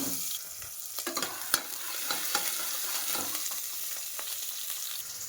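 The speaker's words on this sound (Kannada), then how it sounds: "ಎಣ್ಣೆಗೆ ಹಾಕ್ಮೇಲೆ ಈಗ ಎಣ್ಣೆ ಕಾಯ್ತಾ ಇದೆ. ಈಗ ಇದಕ್ಕೆ ಒಂದು ಈರುಳ್ಳಿ ಆ್ಯಡ್ ಮಾಡೋಣ." Onion added to hot oil sizzles and fries in a pressure cooker, a steady crackling hiss with scattered stirring clicks and taps throughout, close and continuous, with no talk.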